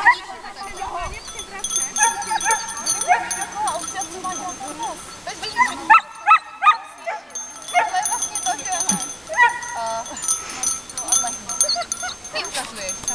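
A dog barks and yips repeatedly at close range outdoors, short sharp bursts spread throughout, mixed with people talking.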